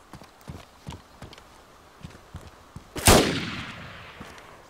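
A single loud gunshot cracks in the video game DayZ and trails off into a long echoing decay. It follows a few seconds of soft, rhythmic footsteps.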